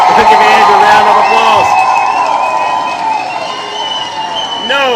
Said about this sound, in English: Let's give the beautiful Ange a huge round of applause